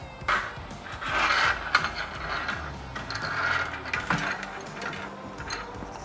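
Bolts are tightened on a truck bed cover bracket, with ratcheting and clicking metal mechanisms in quick, close bursts, steady and moderately loud with no talking.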